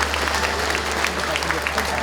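Audience at a county community talk-concert applauds an introduced provincial council member, a loud, sustained crowd of clapping with a low hum underneath and murmuring voices mixed in.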